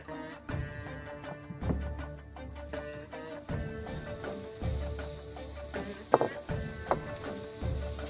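Paneer cheese sizzles and crackles steadily in hot spiced oil, with occasional stirring clatter and sharp pops, close and continuous.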